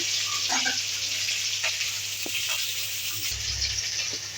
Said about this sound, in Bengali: লাল লাল করে ভাজা হোক